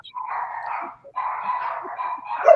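Dogs bark and yelp in two sustained, overlapping bursts separated by a short pause, fairly loud and close, with no talking over them.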